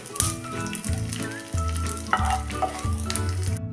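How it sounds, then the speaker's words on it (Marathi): Edible gum (dink) fries in a pan of hot fat, giving a dense, steady sizzle with stirring noises, set against a continuous tonal musical backing. "उरलेला पण डिंका असाच तळून घेते"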